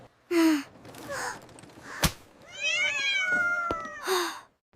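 A family's pet cat meows several times on a trip, with short clear calls spaced apart and a longer drawn-out wavering meow in the middle, plus a couple of sharp taps, close and fairly quiet.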